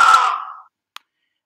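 A single maned wolf bark, loud and close, fades out over about half a second, followed by a faint short click and then silence.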